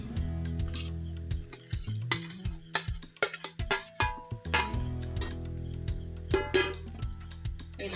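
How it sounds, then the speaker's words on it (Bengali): Chicken and fried potatoes for homemade chicken chowmein sizzle together in a pan, with steady frying hiss under repeated scraping and clinking of a spatula against metal, close and alone with no talk. "দুটো একসঙ্গে মিশিয়ে এটা আবার একটু ভেজে নেব"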